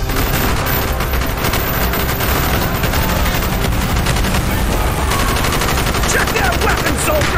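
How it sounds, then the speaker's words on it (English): Sustained heavy gunfire from a Call of Duty Black Ops street battle, with bursts of automatic and shotgun fire crowding one another densely and loudly throughout, over a faint undertone of voices. "Bowman and Carlos lay down covering fire."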